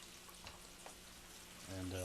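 Pancetta with crushed red pepper frying in a pan gives a faint, steady hiss and crackle over the whole short stretch, with a low hum rising near the end.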